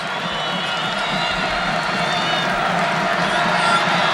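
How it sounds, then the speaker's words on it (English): Crowd cheering and roaring at a college basketball game between Western Carolina and Bradley, a steady dense wall of arena noise sustained throughout, with a commentator's voice over it. "And now the crowd gets into this basketball game"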